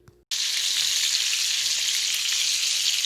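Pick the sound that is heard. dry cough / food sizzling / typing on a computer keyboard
food sizzling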